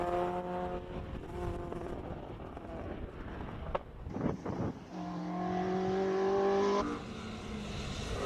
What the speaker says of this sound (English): Aldo Scribanti just leaves the start line with a little 2-liter Pinto Escort.